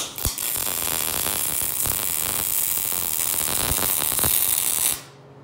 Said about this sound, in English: I think we can go ahead and weld it.